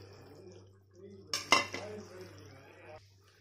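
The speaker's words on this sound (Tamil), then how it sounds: "இப்போ நம்ம தக்காளி ஊற்றிடுவோம். உருளைக்கிழங்கையும் போட்டுடலாம்." Tomatoes and potatoes tumble into a pot of boiling pepper chicken gravy with a short clatter and splash, followed by soft metallic scraping of a utensil against the pot over a low steady hum.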